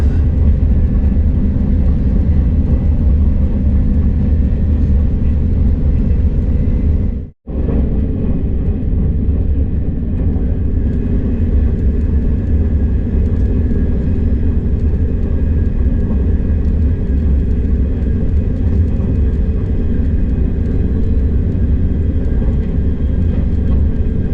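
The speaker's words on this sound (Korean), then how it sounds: "대경선 북삼역 위를 통과한 열차는 앞차와의 안전거리 유지 관계로 속도를 줄이기 시작합니다" Inside a KTX high-speed train that is beginning to slow down, a loud steady low rumble and roar continues throughout, broken by one very brief dropout early on.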